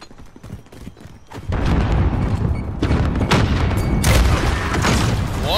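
Heavy booms from grenade explosions in the shooter Call of Duty: Modern Warfare, rolling into a sustained loud rumble with scattered sharp cracks, close and dense, with little talk over it.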